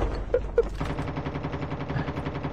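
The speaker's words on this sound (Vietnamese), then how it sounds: "Ủa, ở đâu bắn vào mình vậy? Xuyên tường luôn vậy." Gunfire in a shooting video game, a dense sustained burst of rapid shots with a couple of sharper cracks early on, loud and continuous throughout with no talk.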